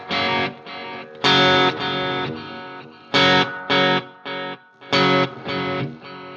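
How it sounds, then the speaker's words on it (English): Clean electric guitar chords through a clean amp and a BOSS Space Echo's tape saturation, strummed in short bursts with pauses between, sounding thick and slightly compressed with a warm saturated edge. "Let me show you on a clean amp what the saturation does."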